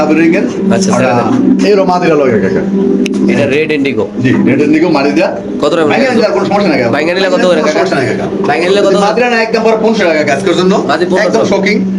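Modena pigeons coo at a pigeon farm, soft repeated calls mixed into continuous close talking that dominates throughout.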